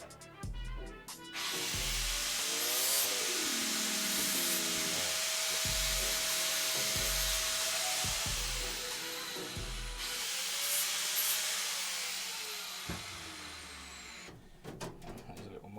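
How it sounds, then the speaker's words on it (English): Steady, loud grinding drone of a power tool deburring the cut end of a small metal piece for a custom firewall, running almost continuously with brief pauses and low clunks of the workpiece being handled. "I'm going to quickly deburr the end"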